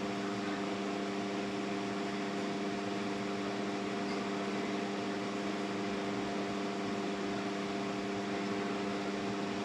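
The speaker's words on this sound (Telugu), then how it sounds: "మిక్సీ పట్టాలి." A mixer grinder blending eggs and milk whirs steadily with a constant motor hum for the whole stretch, loud and unbroken, with no speech.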